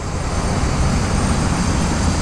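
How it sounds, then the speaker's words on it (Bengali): Loud, continuous rumbling roar of a freight train rolling past nearby, steady and heavy throughout with no voices. "রেল লাইনের ট্রেন যাচ্ছে এটা কি মাল ট্রেন নাকি"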